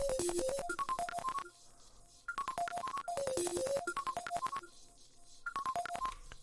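Synth melody through an Effect Rack Micro Shift Classic preset at 50%, with repeating runs of bright stepped notes in phrases separated by short pauses, steady and prominent with no voices.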